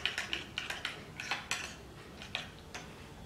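Spoon scraping and clinking against a bowl while stirring butter with minced garlic and brown sugar for garlic bread, a quick irregular run of light taps and scrapes, close and fairly quiet, with no talking.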